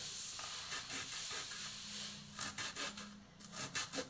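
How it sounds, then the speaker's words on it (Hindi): A knife chops onion finely on a board in quick, regular strokes. The crisp, fairly quiet cuts are heard alone, with no voices. "ऐसे ही मैं बाकी प्याज इसको भी काट लूंगी"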